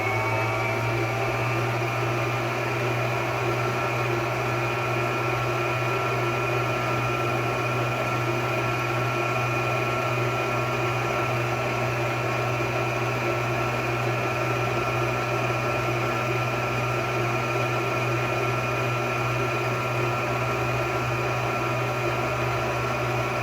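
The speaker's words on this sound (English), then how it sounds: "You can hear the oven making its noise" A kitchen oven running steadily while a New York style cheesecake bakes: a continuous mechanical hum with fan-like whir, constant and unchanging throughout, with no talk over it.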